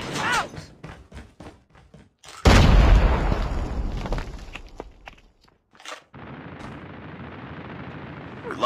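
Frag grenade exploding in a first-person shooter video game, a loud close boom with a long rumbling tail, among scattered footsteps, gunfire and in-game voices.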